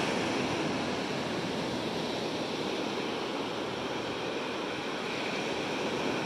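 Ocean waves wash steadily onto Padang beach in West Sumatra, a broad continuous roar of surf with light wind, no voices.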